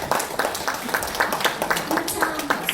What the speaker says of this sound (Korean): 윤소년 총재님께 뜨거운 박수로 맞아 주시기 바랍니다.